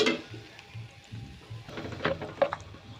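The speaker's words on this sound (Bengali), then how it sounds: "দেখো আমার পেঁয়াজ রসুনগুলো কীরকমভাবে ভাজলাম" Chopped onions and garlic frying in a pan, a soft continuous sizzle with occasional stirring scrapes and light clinks of the utensil, heard close and with no one speaking.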